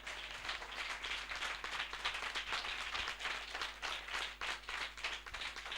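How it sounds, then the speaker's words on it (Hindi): An audience at a Christian spiritual assembly claps loudly, producing a dense, continuous patter of hands that stays steady and strong throughout with no voices over it. "हम जोरदार तालियों से उनका स्वागत करें"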